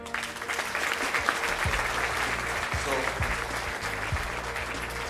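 Audience applause after a keynote speech fills the whole stretch as steady, dense clapping at moderate loudness, with a low rhythmic pulse underneath suggesting background music.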